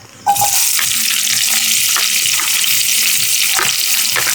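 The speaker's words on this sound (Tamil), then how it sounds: "ஆயில் ஹீட் ஆகிடுச்சு. இப்போ நாங்கள் வெங்காயத்தை போட்டுக்கிறோம்" Onions drop into hot oil in a pan with a sudden onset and then sizzle loudly and steadily, with a faint scraping of stirring, as the base for mutton intestine chukka is cooked.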